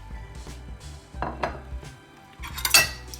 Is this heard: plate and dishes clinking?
yes